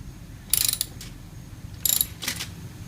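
A ratchet tightening the final drive drain plug, fitted with a crush washer, on a Yamaha FJR1300 ES motorcycle. Two short, close bursts of rapid metallic clicking sound over a quiet background.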